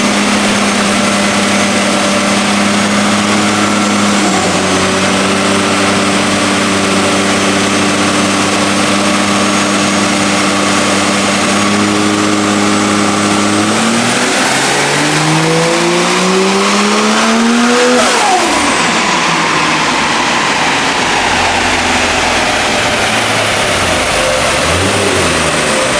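A turbocharged Barra-engined ute roars continuously on a dyno run at full, loud volume, its engine note climbing steadily in pitch as it revs higher, peaking near the end and then dropping away.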